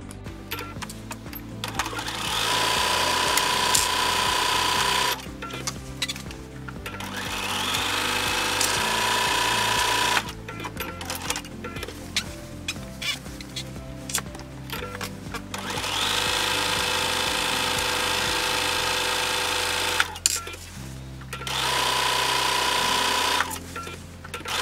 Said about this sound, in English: I'm going to go ahead and stitch this down with a 5/8 seam allowance, and then I'm going to go ahead and finish that seam off with my serger